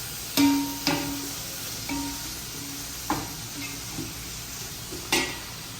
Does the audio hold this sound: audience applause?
no